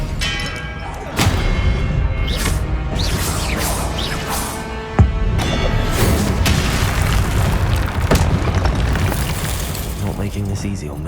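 Spellcasting in Hogwarts Legacy: sharp magical blasts and booming impacts with whooshes, loud and close, a heavy hit around the middle, over busy game sound with a voice shouting.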